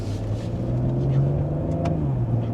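A Maserati Ghibli Modena engine hums at a low, steady idle, moderately close and fairly quiet throughout.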